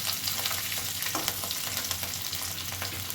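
A pan sizzles steadily as food fries for papad dalna, with a continuous crackle that stays close and even.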